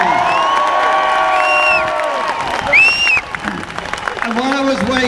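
A large crowd at a Jeremy Corbyn leadership campaign rally in Liverpool cheers and whoops loudly, with a swell of applause and excited shouts layered together, and some voices rising above the din.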